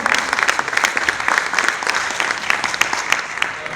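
A crowd applauds at a short-film premiere, many hands clapping in a thick, continuous patter that holds steady from start to finish at moderate loudness.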